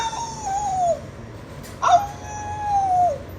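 A puppy howls in two drawn-out, wavering whines separated by a brief yelp, close and clear over a quiet room.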